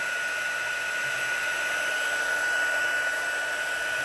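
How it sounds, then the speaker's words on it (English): An embossing heat gun blows hot air in a loud, steady roar with a constant whine, continuous and close, with no talk over it. "Here's my embossing gun. Sorry, it makes such a racket."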